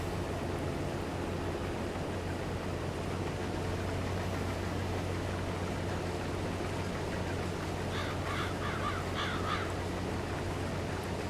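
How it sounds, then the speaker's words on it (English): Crows caw in the early morning of a Farming Simulator 22 farm: a short cluster of several distant caws rises over a constant droning, hissy rural ambience near the end. "The morning crows."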